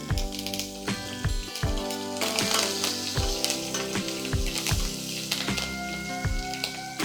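Green chillies and curry leaves frying in hot oil, loud crackling sizzle with rapid popping spatters throughout, close and continuous with no voices.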